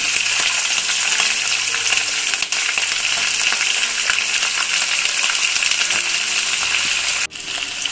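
Onion and green chilli frying in a pan for chitranna produce a loud, even sizzle with light metallic clinks, and the sound breaks off briefly twice.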